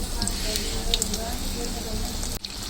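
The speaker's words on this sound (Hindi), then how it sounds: "तो यहाँ पे जो है ना पकौड़े और हमारे जो मिर्चें हैं ये फ्राई हो गई हैं" Pakoras and green chillies deep frying in hot oil, a close, steady sizzle with crackling pops throughout, a brief dip near the end, and a voice talking faintly underneath.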